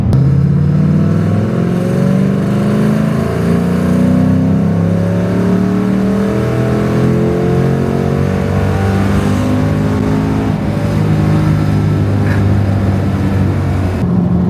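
A Ford Mustang 3V V8 with a newly installed intake and 4.10 gears pulls hard in third gear from 2,000 to 6,000 RPM, its loud exhaust note climbing steadily in pitch over about fourteen seconds without any talking.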